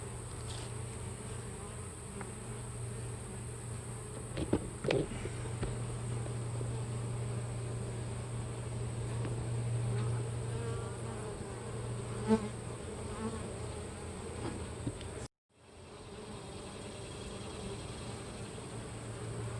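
Honey bees hum steadily and closely around an open hive during an inspection, a dense continuous buzz with a couple of faint knocks, cut briefly by a short dropout near the end.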